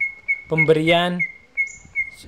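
A caged green leafbird (cucak hijau) gives a short burst of rich warbling calls up close, with a thin sustained whistle-like tone running under and around it.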